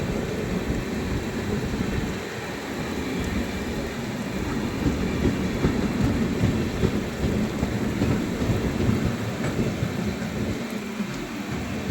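Heavy rain drums steadily during a special train journey from Anand Vihar Terminal, a dense continuous roar with low rumbling underneath, loud and unbroken with no talking.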